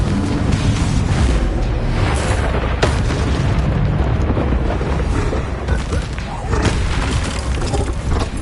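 A Confringo fire spell erupting in the Hogwarts Legacy video game, dense booming blasts and rumbling combat noise throughout, loud and continuous, with a voice calling over the top.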